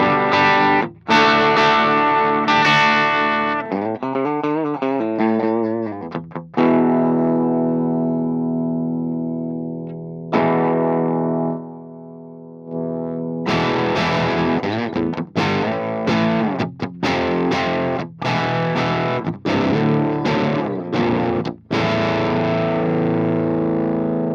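Electric guitar through an STL Tones AmpHub amp simulator on a clean tone, with strummed chords and sustained ringing notes, some single picked lines and a long fading chord midway, played loud and alone with no talk.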